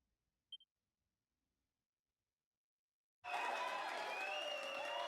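A couple of faint electronic blips, then silence, followed by a sudden burst of crowd applause and cheering that continues steadily to the end, in the video game Dragon Quest 3 HD-2D.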